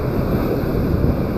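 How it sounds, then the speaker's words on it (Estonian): Stormy sea at Paldiski pounding the shore, a loud, continuous churning roar of surf mixed with gusting wind buffeting the microphone, with no voices. "Ja kui see võimas laine sinna sisse lööb"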